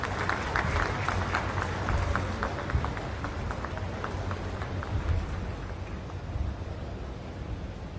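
A large audience applauds at the inauguration of an international airport in Uttar Pradesh, producing a steady, dense wash of distant clapping that continues evenly for several seconds with no pauses.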